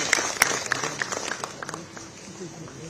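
Audience applause for a student who passed the higher secondary examination, honoured on stage at a merit-cum-means award event: a short burst of scattered clapping that thins out over a few seconds, with voices in the background.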